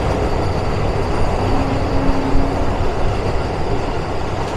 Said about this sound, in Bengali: এবার বন্দে ভারত ফুল স্পিডে চলছে।